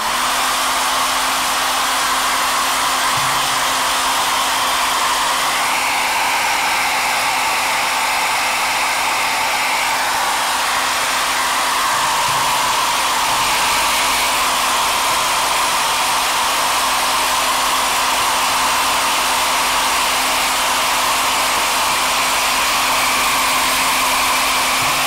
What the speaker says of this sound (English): I'm going to use the air dryer right now